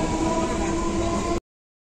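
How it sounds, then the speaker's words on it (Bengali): Passenger train on an Indian local line heading toward Ranaghat, heard from inside a crowded carriage as a loud steady rumble with a faint hum, cutting off abruptly. "ট্রেনটাও ছেড়ে দিল।"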